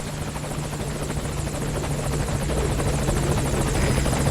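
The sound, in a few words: helicopter hovering in video game Metal Gear Solid V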